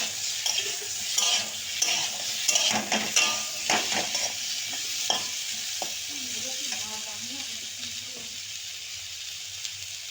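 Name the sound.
potato and cauliflower frying in a pan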